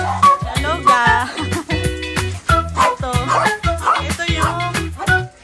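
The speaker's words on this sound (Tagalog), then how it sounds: "yung aso sa likod" A dog barks and whimpers in short, repeated yips close by, with a person talking briefly between the sounds in a home setting where sinigang is being cooked.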